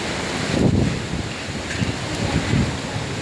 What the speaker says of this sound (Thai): ลมแรงมากเพื่อนๆบัดนี้